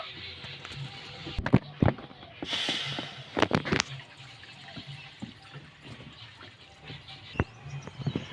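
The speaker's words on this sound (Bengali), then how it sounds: "এবার আমি কোনার মধ্যে জল দিয়ে দেব" Water poured into a kadai set on a lit stove, with a brief splashing rush in the middle among scattered clinks and knocks of kitchen handling, heard close.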